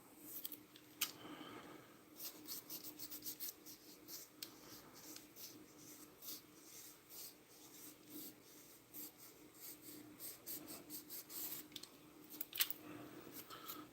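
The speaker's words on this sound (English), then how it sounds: "I'll just slice a little bit this way. It's a little flippy floppy, but man, it does cut well." A blade slicing through material in repeated soft scraping, snipping strokes, close and fairly quiet, with scattered sharper clicks.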